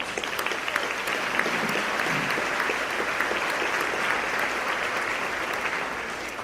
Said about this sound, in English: Let's give all our sponsors a round of applause